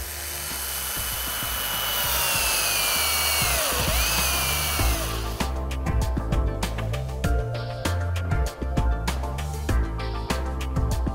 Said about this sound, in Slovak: Aj takúto kľučku je možné relatívne jednoducho prekonať pomocou vŕtačky